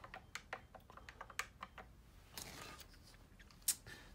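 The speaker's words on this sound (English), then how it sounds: "You would enter clear cancel 123 on your keypad, then select operator function, then enter your master password." Buttons pressed one after another on a Hyosung ATM keypad, with a string of quiet, irregular clicks and taps that are close by and heard without any talk.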